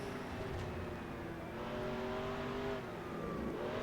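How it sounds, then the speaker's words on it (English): Race car engine in NASCAR Racing 2003 Season on the Indy road course, shifting down into first gear through a tight turn, a steady loud drone with engine tones gliding and dipping as revs change. "Down into first gear to help the car pivot"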